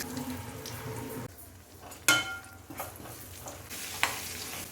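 Mustard seeds hit hot oil in a pan with a sudden crackling sizzle that settles into faint frying and scattered pops in a quiet kitchen.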